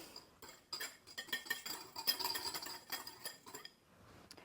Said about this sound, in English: And you want to give that a little stir.